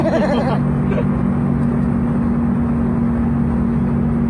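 A jeep engine hums steadily with a low, constant drone during a ride, close and loud throughout, with a brief voice at the start.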